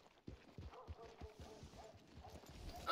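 Horse hooves clip-clop in the video game Red Dead Redemption 2, a steady rhythmic walking beat on hard ground, fairly quiet, with faint background game sounds.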